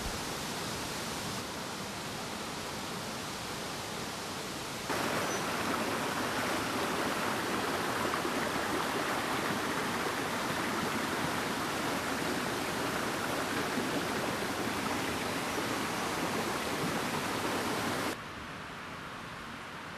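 Steady rushing water of the Villahermosa river, a mountain river in Castellón lined with lush vegetation, flows without pause, growing louder partway through before easing back down near the end.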